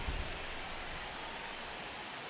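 Steady rain falls on a baseball field in the MLB The Show 25 video game, a broad, even hiss that stays constant and soft with no other sounds.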